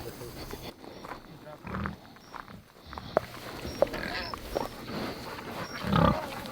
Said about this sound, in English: Pigs love acorns. More, more. You hear them crunching?